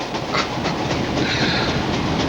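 A train rolls along rails in a 1984 Miller Lite beer commercial, a continuous loud rumbling clatter with faint rhythmic clicks, steady throughout with no voices.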